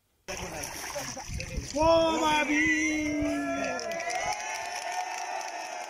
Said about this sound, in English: the watching crowd cheered